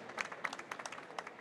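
Faint, distant applause from an audience at an artisans' trophy ceremony, a thin patter of scattered claps with no voices over it.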